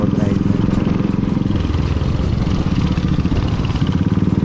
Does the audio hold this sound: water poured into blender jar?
no